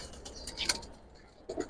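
Giribaz pigeons coo softly at a pigeon seller's in Old Dhaka, two brief, faint throaty calls with a quieter bird chirp between them.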